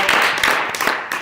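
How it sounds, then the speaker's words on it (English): Dense clapping and applause from an audience honoring James Culpepper at an interview event, steady and fairly close, with no talk over it. "Give him a round of applause for Mr."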